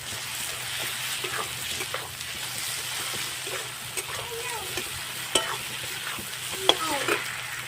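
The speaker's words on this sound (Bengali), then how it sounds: "বন্ধুরা পেঁয়াজটা একটু লাল করে ভাজা হবে" Onion with dried red chili paste frying and being stirred in a pan for a hill-style chicken curry, a steady close sizzle broken by occasional scrapes and clinks of the spoon.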